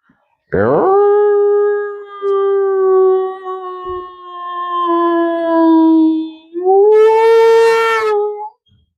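A human voice imitates a dog howling: a long, wavering howl that sags and fades, then a short, sharper howl rises after a brief pause.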